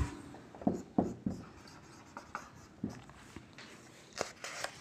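A pen scratches out an answer on paper in quick, scattered strokes, soft and close, with short pauses between bursts and no voices.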